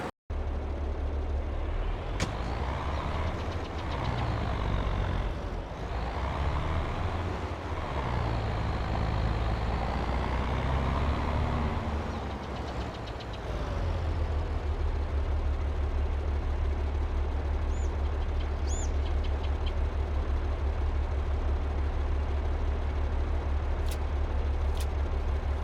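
Heavy truck engine in the Farming Simulator 22 game while loading, a loud continuous diesel drone and idle that swells and dips, settling into a steady low rumble with a few faint high tones near the end.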